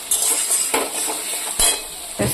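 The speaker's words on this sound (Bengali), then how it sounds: "লবণ দিলে পেঁয়াজটা খুব তাড়াতাড়ি ভেজে গিয়ে লাল লাল ভাজা হয়ে যায়" Sliced onions with a little salt sizzle in a pan for a chicken curry, with a soft steady frying hiss broken by a few sharp scrapes of a spatula stirring against the metal.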